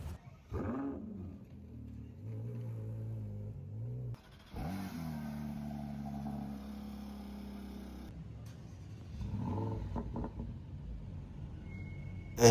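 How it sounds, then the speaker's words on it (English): Sports car engines, including a Bentley Continental GT3R and a Porsche 911 GT3 Touring, cold start one after another, each a sharp starter catch and rev flare settling into a loud steady idle, heard close with no talking. "I got some cold starts from every one of these cars"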